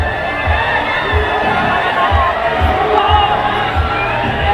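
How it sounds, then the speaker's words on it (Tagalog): A basketball crowd at a GLeague LJF-Cup game cheers loudly and steadily, a dense wall of shouting voices with rhythmic low thumps pulsing underneath throughout. "The crowd erupts."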